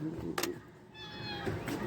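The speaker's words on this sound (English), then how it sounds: "Go play with the cat in heat." A female cat in heat meows in short, insistent calls over a steady background hum, with no talk.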